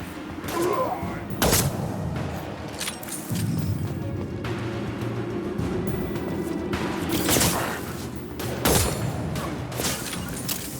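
Gunfire from the Mass Effect 2 video game on Insanity difficulty during Dr. Okeer's Legacy mission, several sharp shots and bursts cutting through a dense, rumbling combat soundscape, loud and close.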